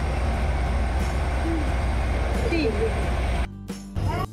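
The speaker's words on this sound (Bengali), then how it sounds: "তো দেখো ট্রেন চলে এসেছে প্ল্যাটফর্মে" A passenger train pulls into a station platform with a steady low rumble, faint wheel squeals and brake hisses, while people murmur and chatter nearby.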